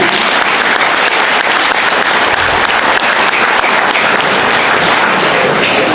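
Loud, sustained applause from an audience at an evening folk music gathering in Trnovo, dense clapping filling the whole stretch without a break.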